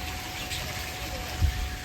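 A waterfall at a pool resort gives a steady, even rush of falling water that fills the short stretch without pause, with a brief low thump near the end and no clear talking over it.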